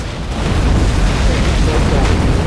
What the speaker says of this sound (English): An airstrike because he captured that uplink